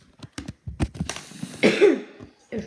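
A person coughs several times in quick, harsh bursts, ending with a longer, rasping throat-clearing cough, close up.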